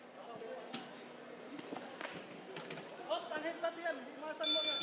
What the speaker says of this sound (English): That's the sound of the bell to end round number 1.